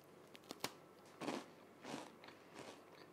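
Someone bites into a crunchy Christmas cookie made with chopped almonds and cinnamon, giving a few sharp close crunches followed by softer chewing, quiet and with no talk.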